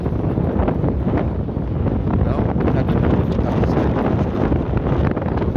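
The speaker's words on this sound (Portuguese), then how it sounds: "O vento tá soprando bem forte." Strong wind buffets the microphone in a loud, constant roar at an outdoor spot as the weather turns, with a brief voice over it.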